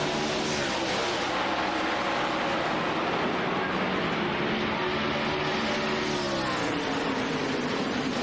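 NASCAR Cup stock cars at Charlotte in 2000 roar in a dense, continuous pack after a green flag restart, engine whine rising and falling as cars sweep past, loud and unbroken.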